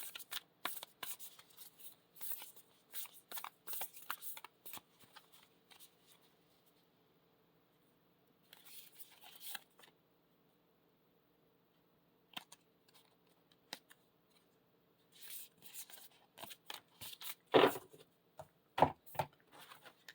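An oracle card deck is shuffled and cards are drawn during an intuitive reading, with close, crisp bursts of riffling and sliding cardboard separated by quiet pauses and a few sharp taps as cards are set down.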